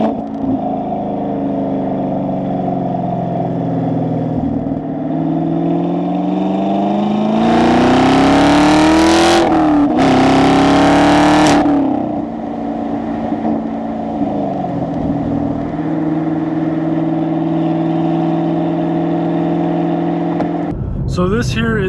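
A 2017 Chevrolet Camaro SS 1LE V8 idling loudly, then revved twice in sharp climbing bursts before settling back to a rumbling idle, with someone talking over it near the end.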